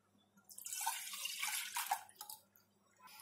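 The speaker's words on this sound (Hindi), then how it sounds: "दूसरे सॉस पैन में ले लेंगे हम अपना दूध" Milk poured into a saucepan, a short splashing, gurgling stream that starts abruptly, runs for about two seconds and tapers off with a few drips, close and quiet with no voices.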